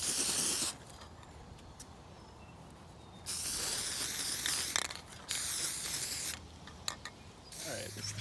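Sealant is sprayed from a can over a puncture patch on a small PVC inflatable boat, in several separate bursts of loud hiss with quiet pauses and small handling noises between them.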